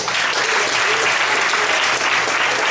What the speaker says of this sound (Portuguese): Você pode aplaudir esse Deus.